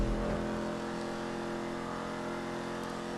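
Vapid Dominator GTX, a Ford Mustang-style muscle car in GTA 5, revving steadily with a dense, continuous mid-range engine drone that stays loud and unbroken throughout.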